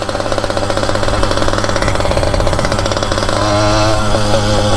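A motorized Aro 20 bicycle's small two-stroke engine runs close up, a loud rapid buzzing putter with a fast pulsing rhythm that rises in pitch toward the end.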